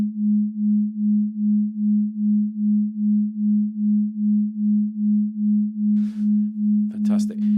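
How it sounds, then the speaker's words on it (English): A steady low binaural beats tone hums with a slow, even pulsing throughout, close and clean, with brief rustling noise near the end. "this is what binaural beats sound like"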